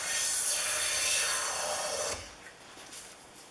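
A hand plane with a Chaplin's plane iron cuts a wood shaving in one long rasping pass that stops abruptly, leaving faint quiet handling sounds.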